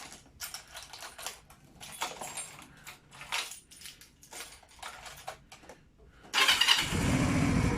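A Jinlun JL125-1 125cc motorcycle engine cranks and catches near the end, then settles into a loud, steady idle after several seconds of quieter mechanical shuffling and clicks.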